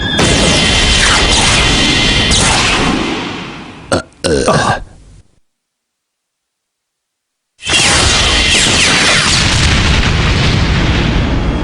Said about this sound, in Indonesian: Aktifkan spatium bomb. Tembak.